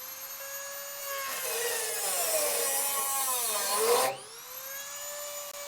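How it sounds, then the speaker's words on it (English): A cutting tool zips through a rusted, already leaking steel gas line on a Crew Cab Charger under restoration, a loud continuous grinding whine with rising and falling pitch that cuts off sharply near the end, leaving a lower steady tool hum. "I'm zipping the gas line out right now"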